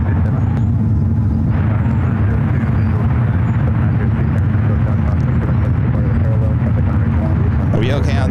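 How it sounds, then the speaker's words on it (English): A United airliner bound for Hong Kong takes off from runway 28 left at SFO, producing a loud, steady jet roar with deep rumble, heard under a person talking. "This United flight heading to Hong Kong, flight 869, will be taken off on 28 left."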